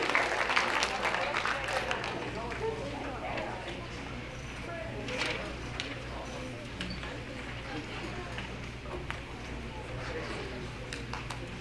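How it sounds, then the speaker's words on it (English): Sustained applause from an audience at a middle school awards assembly for 8th grade award winners, steady clapping filling a hall throughout, with a voice speaking over it. "Let's give another round of applause for everybody here who's recognized."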